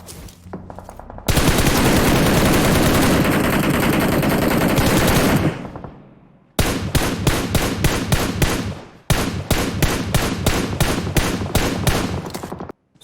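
Loud, close machine gun fire in the mobile shooter game PUBG Mobile: one long sustained burst, then two runs of sharp, evenly spaced rapid shots separated by a brief pause.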